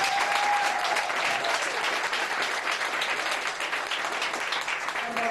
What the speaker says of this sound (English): he deserves a big round of applause in Texas